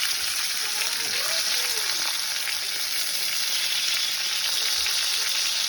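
Beef fillet sears in a hot pan with a steady, loud broadband sizzle that runs unbroken from start to finish, with no other sounds on top.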